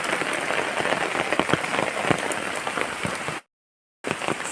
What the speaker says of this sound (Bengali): হাওয়া নেই, তো বৃষ্টি হচ্ছে।